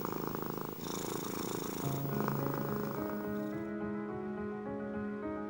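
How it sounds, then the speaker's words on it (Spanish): A cat's purr in Resident Evil 4 Remake, a continuous low rumbling purr heard up close, joined by sustained musical tones that swell and then thin out near the end. "Ronroneo."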